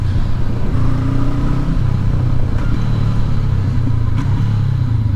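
Honda CB500X 2019 motorcycle downshifting with throttle blips while riding, a steady rumbling engine drone under wind noise with brief rises in revs, no talking.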